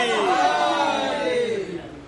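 A large religious gathering shouts a slogan together in response to a preacher, a loud, sustained collective roar of many voices with rising pitch, close and filling the space, fading slightly at the end.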